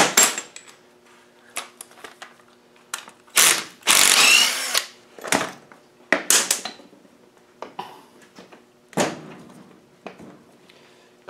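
A hand tool works a tight bolt on an LT230 transfer case cover, giving sharp metallic clicks, clanks and a harsh grinding burst, irregular and close, with quiet gaps between efforts and no talking.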